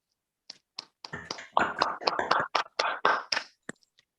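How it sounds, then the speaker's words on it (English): Scattered claps start sparse, then thicken into a short burst of group applause at a Rotary Club Chandigarh Midtown event honoring a prestigious award, before thinning out to a few final isolated claps. "A big applaud for this prestigious award."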